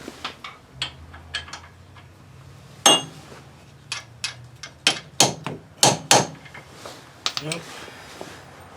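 Hammer blows on a seized wheel hub: about a dozen sharp, loud metallic strikes land at irregular intervals, some close together, over quiet background.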